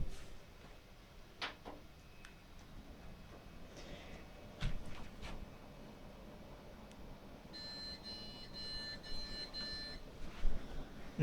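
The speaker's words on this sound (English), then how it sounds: "No keyboard and mouse plugged in, that's the beeping." A computer with no keyboard or mouse plugged in gives a short series of electronic beeps after some quiet clicks and bumps in a hushed room.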